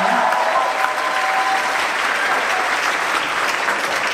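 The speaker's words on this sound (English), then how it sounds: "Would you give them a round of applause?" An audience at a school choral concert applauds the student sound and lights crew, a steady, dense wash of clapping that holds evenly for the full stretch.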